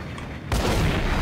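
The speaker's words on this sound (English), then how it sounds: "he threw his grenade" Grenade explosion in Max Payne, a sudden loud boom that follows a short quieter stretch and leaves a rumbling, crackling tail.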